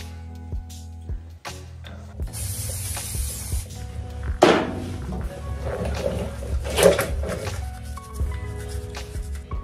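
Cleaner is sprayed onto the brake calipers of a salvage Kawasaki Ninja ZX6R in several close hissing bursts, with faint clanks from handling the parts between them.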